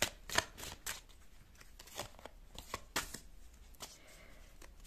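Tarot cards are shuffled and drawn by hand: a quick series of crisp riffling snaps and flicks, close up and fairly quiet, with short pauses between bursts and no talking.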